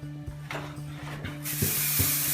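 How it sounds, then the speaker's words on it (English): A texturizing hair spray hisses in a sustained burst near the end, preceded by light handling noises over a steady low hum. "Still using the texturizing spray."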